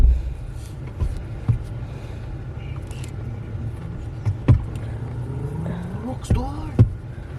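The cabin of a moving car on an hour-long ride is filled with a steady low engine and road rumble, with occasional thumps and rattles and voices talking now and then over it.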